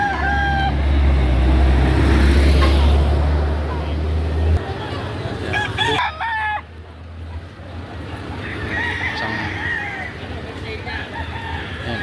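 Roosters crow in a busy chicken market in Lipa, Batangas, where stags and gamefowl are sold; a loud crow rises over constant crowd noise, with people talking nearby and other birds clucking.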